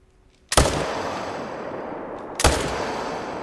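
Two loud rifle shots fired at a puma while hunting in theHunter: Call of the Wild, spaced about two seconds apart, each a sharp crack followed by a long rolling echo through open terrain.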